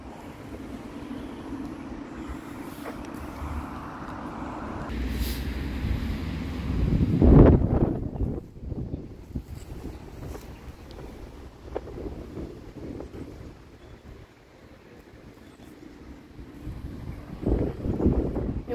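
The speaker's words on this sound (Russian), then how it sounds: "Ветер не холодный, но очень такой сильный." Strong, not cold spring wind in a village buffets the microphone in rough, roaring gusts, swelling loudest midway, with muffled rumbling throughout.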